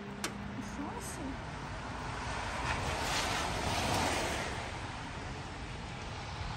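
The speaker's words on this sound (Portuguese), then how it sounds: "Mas está com barulho muito vento." Wind buffets the microphone outdoors in the snow, a steady broadband roar that swells toward the middle before easing, with no other clear sounds.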